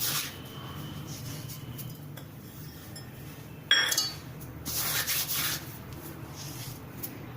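Ajwain (carom seeds) crushed by hand over a bowl of spiced namkeen kachori dough, a soft continuous gritty rubbing with faint clinks, a sharper rustle near the middle and brief louder bursts toward the end.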